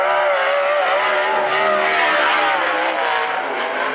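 A sprint car laps a 3/8 mile dirt oval during Western Sprint Tour qualifying at the Central Washington State Fair, its engine a loud, sustained roar with wavering pitch as it carries speed around the track.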